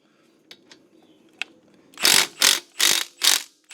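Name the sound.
3/8 inch impact wrench removing Honda Accord caliper bolts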